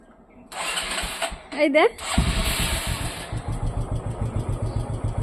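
A motorcycle pulls up at a home and its engine idles with a steady, rhythmic mid-pitched putter, close and fairly loud, after a brief voice speaks over the start.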